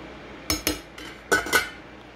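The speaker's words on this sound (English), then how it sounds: "I can't resist stirring." A spoon clinks against a pot on an induction cooktop, four sharp metallic knocks in two close pairs, near and clear with quiet between them.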